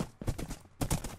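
Hooves of a horse galloping in Minecraft thud in two quick bursts of clip-clop, close and fairly loud, with no talking.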